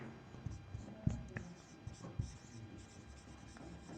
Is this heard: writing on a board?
yes